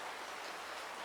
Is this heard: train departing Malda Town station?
no